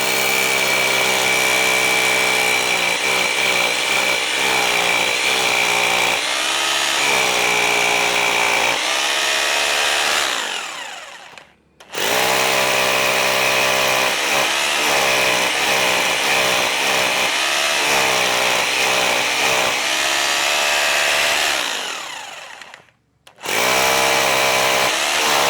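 A Braxter BT226B-826 rotary hammer drills into K350 concrete with a loud, continuous chattering hammer-drill roar, stopping briefly twice, near 11 and 23 seconds, before starting again.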